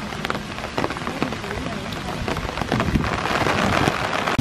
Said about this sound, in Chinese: 哇，几大雨！